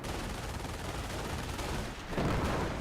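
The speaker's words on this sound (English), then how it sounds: "He's mortaring me." Distant, muffled gunfire and mortar blasts from a Company of Heroes battle with British forces, a dense continuous rattle of shots with a heavier thump near the end, with no voices.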